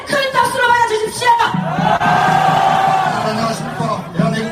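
A crowd at an outdoor patriotic party rally at Seoul Station on a cold day roars with loud, sustained shouting and cheering, swelling in the middle and rising again at the end.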